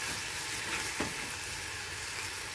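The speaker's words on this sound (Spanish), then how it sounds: "sofreímos por un minutito." Finely chopped peppers sauté in a pan for chicken pasteles, a constant loud sizzle with one brief stirring scrape.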